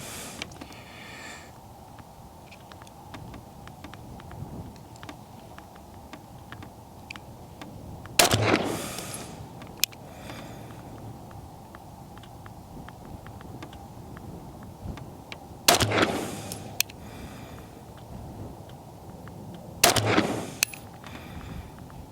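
A Staccato C 2011 pistol with a 4-inch barrel fires 147-grain hollow-point rounds outdoors, three loud, sharp single shots spaced several seconds apart, each with a brief echoing tail over faint wind.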